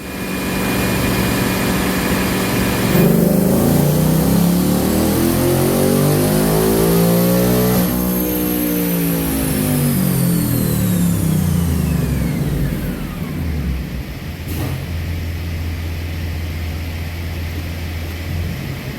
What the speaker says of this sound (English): you just saw us make a pull on the chassis dyno with our 2024 Mustang